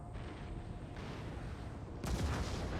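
Musket and cannon fire in Empire: Total War, a distant rumbling battle bed with a heavier boom breaking in near the end, no voices.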